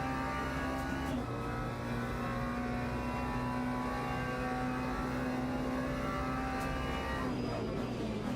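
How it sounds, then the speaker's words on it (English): A race car's engine in Le Mans Ultimate, lapping Sebring, drones loud and steady at high revs throughout, holding a buzzing pitch near the rev limiter with a brief dip and rise partway through. "The rev limiter again."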